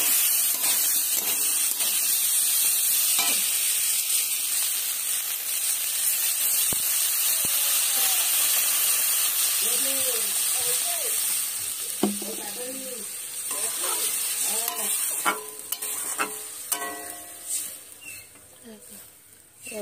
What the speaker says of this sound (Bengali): এবার জল দিয়ে দিয়েছি আলুর দমে